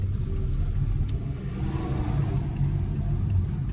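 A car accelerates steadily on a suburban street during a driving lesson in Brovary, its mid-range engine droning loud and close with a continuous rumble and no voices.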